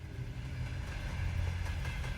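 Steady low rumble of a passenger train with sleeper cars rolling along the rails, a continuous near drone with faint rhythmic rattle and no voices.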